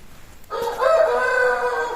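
A single rooster's crow, a blue-grey cock, rings out close and clear, rising sharply and holding a long drawn-out call over a quiet background.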